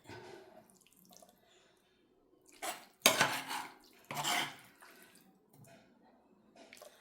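Mutton liver roast is served onto a plate in a home kitchen: a few sharp, close clinks and scrapes of utensil and dish come in short bursts against a quiet background.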